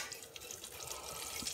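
Steady running tap water splashes in a kitchen sink while a spatula is rinsed, a continuous close hiss and patter alone without talk, after cooking schnitzel and eggs.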